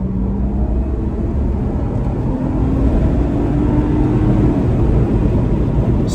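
2005 Lexus GS300 engine downshifting in manual mode, a steady low drone from the car's interior with a faint pitch change as the revs shift, continuous and moderately loud.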